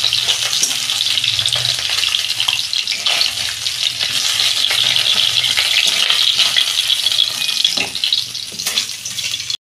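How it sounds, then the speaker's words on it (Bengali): Potatoes and pointed gourd fry in hot oil in a pan, a steady, close, loud sizzle that crackles evenly throughout with no talk. "তেলে আমি আলু পটলগুলো ভেজে নিচ্ছি"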